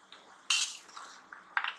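Grated wet coconut mixed in a bowl for Janmashtami gopal kala: faint, light clinks and scrapes of a spoon against the bowl, a few short bright knocks spread over under two seconds, with no talk.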